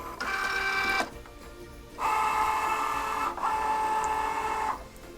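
A Cricut Joy cutting machine cuts a loaded mat, giving three quiet bursts of whirring, buzzing motor movement separated by short pauses, with no talking.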